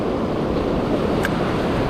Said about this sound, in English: That wind's picking up significantly as well